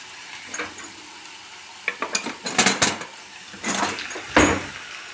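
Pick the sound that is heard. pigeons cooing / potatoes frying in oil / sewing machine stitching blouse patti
potatoes frying in oil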